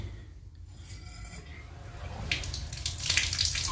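Water rushes from a tap after its leaking connection was repaired, a steady, hissing stream close by that grows stronger and brighter toward the end.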